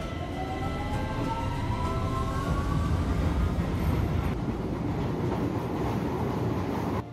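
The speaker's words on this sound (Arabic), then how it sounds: "في المساء وبمحطة المترو بفانسبيري بارك" A metro train passes through Finsbury Park station in the evening, a steady loud rumble and rail roar with a falling brake-like whine, lasting throughout with no talk.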